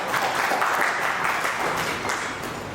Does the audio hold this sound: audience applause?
yes